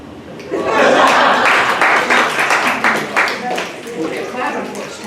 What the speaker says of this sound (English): Clapping for squares.